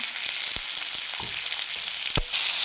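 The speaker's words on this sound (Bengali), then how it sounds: "টমেটো কুচি, লঙ্কা চেরা দিয়ে একটু ভালোভাবে নাড়িয়ে নিচ্ছি" Chopped tomato and slit green chillies fry in a pan with a steady close sizzle, broken by a few sharp spatula scrapes and taps, the hiss swelling briefly near the end.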